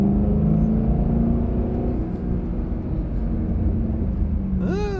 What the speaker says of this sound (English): let's get a slight pull in 2nd gear just so you guys can hear the exhaust from the inside